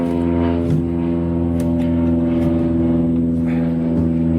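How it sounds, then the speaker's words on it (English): A propeller plane flies overhead, its steady droning engine hum with strong low harmonics holding loud and constant throughout, close and unbroken. "We'll let this plane fly over here real quick"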